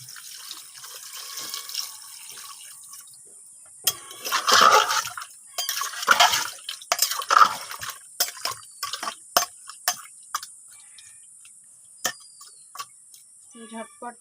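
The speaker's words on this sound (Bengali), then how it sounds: "এখন আমি পানি দিয়ে দেব, পরিমাণ মতো পানি দেব," Water poured into a pot of meat and potato curry, heard as intermittent splashing bursts and small clinks against the pot, with quiet gaps between pours.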